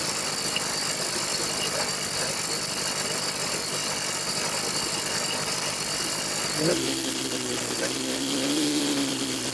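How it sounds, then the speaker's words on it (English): A 100cc bicycle engine running low on gas, ridden through a neighborhood, gives a loud, steady buzzing drone that shifts to a rougher, revving tone in the final seconds. "You hear it getting louder as it's running out of gas."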